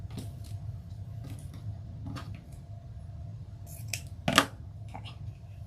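Scissors trim deco mesh tails on a scarecrow wreath, a few soft snips at close range with one sharper cut near the end, over a faint background hum.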